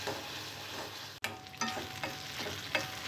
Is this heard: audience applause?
no